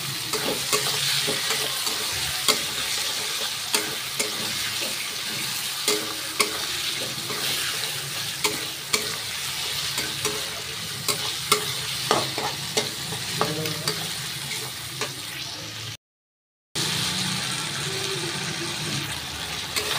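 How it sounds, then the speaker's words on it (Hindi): Chopped tomato frying in a pan with ginger and garlic, stirred with a steady sizzle and frequent scraping clicks of the spoon. It is close and continuous, with a brief dropout near the end and no talk. "आप देख सकते हैं हमारा टमाटर भी फ्राई हो चुका है इसमें।"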